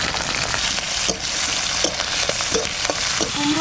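Spices sizzle and crackle steadily in hot mustard oil with black cumin, dried and green chillies, and garlic, loud and close, with a few brief stirring scrapes and no voices.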